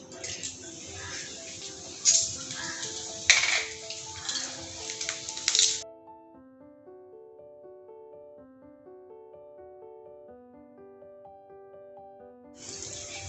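Bay leaves, dried chilies and panch phoron fry in hot mustard oil in a kadai, a steady close sizzle with sharp pops that cuts off into soft music, then briefly returns.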